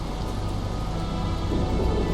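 Steady heavy rain falls in a video game set on a muddy, salty wilderness trail, a dense unbroken hiss that stays loud and even throughout with a low rumbling undertone and no voices.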